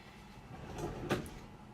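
A kitchen drawer is slid back into its cabinet, a short rumbling glide that ends in a soft knock, fairly close and quiet, with no talk.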